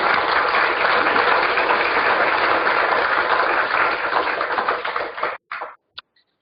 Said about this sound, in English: clap your hands, hug each other.